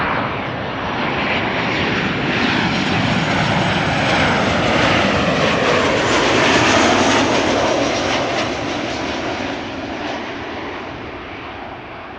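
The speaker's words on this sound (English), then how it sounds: "Ryanair flight 420 arriving from Dublin, Ireland." A Ryanair plane arriving from Dublin lands at Amsterdam Schiphol Airport, its engine roar broad and sustained, swelling gradually toward the middle and easing slightly at the end, with no voices.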